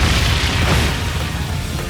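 The Brionac weapon in the video game Trails of Cold Steel III fires a loud, continuous, booming blast that fills the whole moment with a dense roar and no speech.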